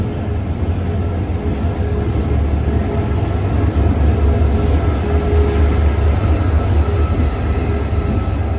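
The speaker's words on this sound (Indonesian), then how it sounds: "The train of Munsan is now approaching." A continuous loud rumble of a subway train arriving at a station, with steady low drone and hiss, sustained without letup, heard from close by.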